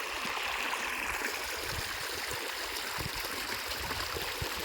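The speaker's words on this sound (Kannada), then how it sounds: "ನೋಡ್ರಿ ಇಲ್ಲಿ ನಡ್ದಾವ ನೀರು" Water running out of a pipe into a farm field, a steady outdoor trickle and gurgle that flows continuously at moderate level with faint splashes throughout.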